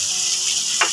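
Mirchi leaves (chili leaves) drop into hot oil while cooking Hyderabadi mirchi salan, giving a steady close hiss with a short bright burst of sizzle near the end.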